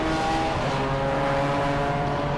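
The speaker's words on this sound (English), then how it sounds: "We very nearly got run over as a smart car comes in" A smart car pulling into the pit lane during a race meeting at Silverstone: a loud, close, steady engine drone with a sustained tonal whine and no pauses.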